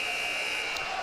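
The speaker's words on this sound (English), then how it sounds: "again, the buzzer sounds in the period" A period-end buzzer sounds at a junior hockey game between the Portland Winterhawks and Kelowna Rockets, a steady, loud electronic drone held for the whole moment over arena noise.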